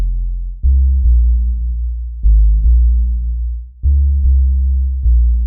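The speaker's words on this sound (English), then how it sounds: "for the sub, we simply use the finger bass again, but an octave below, and it's been low passed." A sub bass made in Serum from a finger bass patch dropped an octave and low-passed plays a deep, smooth repeating bassline. Each note starts with a soft attack and then sustains, alone and loud.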